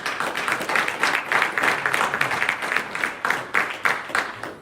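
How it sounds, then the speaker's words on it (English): An audience at a keynote gathering claps for a woman being welcomed, a crisp, fairly loud patter of hands with audible pulses, while a few voices call out faintly underneath. "Y'all give her a round of applause."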